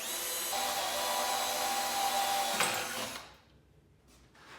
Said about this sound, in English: So I'm going to drill pilot holes, number 4 clearance hole